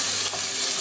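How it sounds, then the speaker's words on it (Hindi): Masala for murg chole sautéing in a pan, a steady close sizzle with a faint stir through the middle, brief and unbroken with no voices. "भून लिया थोड़ा सा"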